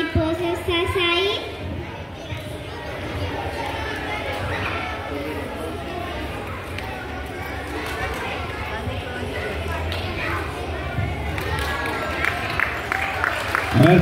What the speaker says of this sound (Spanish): fuerte el aplauso para la niña